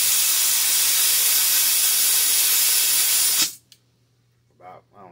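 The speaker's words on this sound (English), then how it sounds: "You're going to spray directly in here." A loud, steady aerosol spray hisses for about three seconds, then stops abruptly, leaving near silence with a couple of faint sounds afterward.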